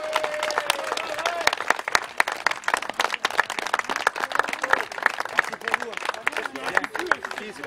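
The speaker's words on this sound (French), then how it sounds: "je veux bien un bon coup d'applaudissements quand même" Outdoor crowd applauding organisers at a Christmas motorcyclists' charity event, a steady patter of many hands clapping with scattered sharp claps, moderately loud, with talk mixed in over the clapping.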